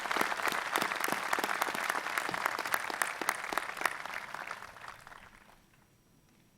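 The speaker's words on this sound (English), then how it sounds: "So please join me in a big round of applause." Graduation ceremony audience applauds in a dense, crisp burst of clapping that holds for about five seconds, then fades away into near silence before a brief sound at the end.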